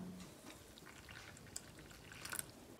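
Water poured into a bowl of dry-roasted kasuri methi and spices for singhara sabzi gives a quiet, close trickle with a few small splashes near the end, alone and without talk.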